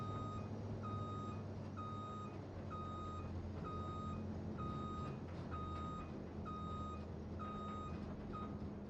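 A lorry in the video game Farming Simulator 25 reverses, its backup alarm beeping in a steady, evenly spaced rhythm over a constant engine rumble, with no talking.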